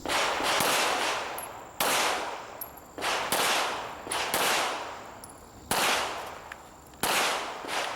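Pistol shots crack out at an outdoor IDPA shooting match stage, six or seven loud reports about a second apart, each followed by a long echoing decay, with faint metallic pings between them.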